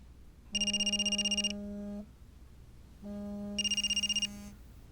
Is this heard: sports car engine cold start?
no